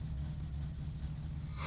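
A car engine idles while warming up in the video game My Summer Car, a steady low rumbling drone with no revving, continuous throughout.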